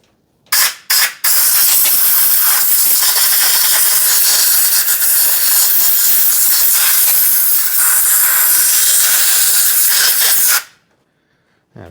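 An air pistol blows air during an Australian barge brake overhaul. Two short blasts come first, then a loud, continuous close-up hiss that lasts about ten seconds and cuts off abruptly.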